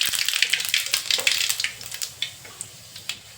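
Cumin and mustard seeds fry in hot oil on a stove with a crackling sizzle, broken by sharp popping bursts at an uneven rhythm, close up and with no voices.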